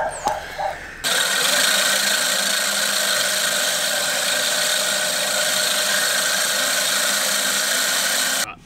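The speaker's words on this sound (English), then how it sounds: "let's just give it one more quick grind" A reel mower being back lapped with grinding paste, the reel spinning against the bedknife in a steady, loud, continuous grinding whir that starts abruptly after a brief quieter moment and runs unbroken until it cuts off near the end.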